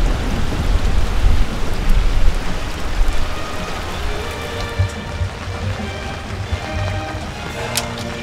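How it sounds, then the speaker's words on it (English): Steady heavy rain pours outside during a storm, a dense continuous wash of drops on surfaces with low rumbling underneath, loud and close throughout with no voices. "We're waiting out the storm, Pen Man."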